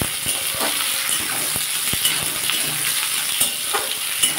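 Onions and garlic frying in hot oil in a pan crackle and sizzle steadily and loudly, with a scatter of sharp pops and spatters throughout.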